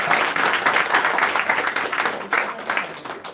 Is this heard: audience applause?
yes